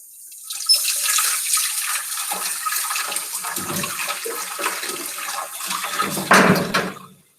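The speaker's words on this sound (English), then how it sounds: "So at the sink, I'm going to wash my hands and the tools at the same time." Tap water runs steadily into a sink as hands and pottery tools are rinsed under it, a close, continuous splashing rush lasting several seconds with a brief louder surge near the end.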